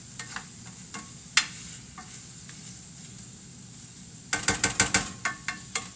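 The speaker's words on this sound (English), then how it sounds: "we're gonna let that saute up a little bit more. Try and get the kielbasa down on the pan so I can get kind of a good sear on it." Kielbasa sautéing in a pan, a low steady sizzle broken by sparse metallic scrapes and clicks that become a quick cluster of clattering stirs near the end, close by with no talk.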